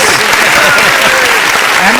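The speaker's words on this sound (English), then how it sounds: "I'm queuing up the applause for our next victim here" A dense, loud wash of recorded applause from a played sound effect fills the moment without a break.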